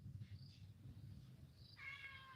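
A cat meows for attention in a quiet indoor room, giving a few soft, short meows followed by a longer, clearer one near the end.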